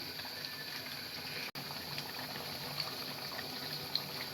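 Duck meat frying down with spices and onions in a pot, oil risen to the surface, gives a steady, quiet bubbling sizzle that runs throughout, broken by one very brief dropout.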